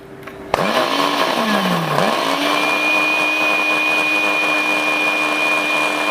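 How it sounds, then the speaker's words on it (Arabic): An electric mixer beating eggs with vanilla whirs on with a sudden start, its pitch dipping and recovering as it beats, then holds a steady loud hum. "اول حاجه بقى هضرب البيض مع الفانيليا"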